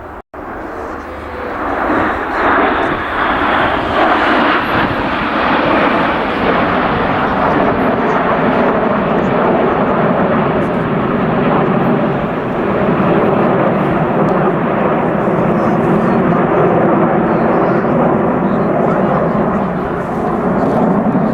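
Red Arrows jets fly overhead in close formation at an air show, a loud, continuous roar of jet engines that swells and holds for about twenty seconds, with faint commentary beneath.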